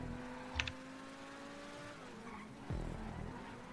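A car in a racing video game lands after a jump and skids, with a short thud and screech near the start and a second heavier impact and scrape later, over a steady engine drone.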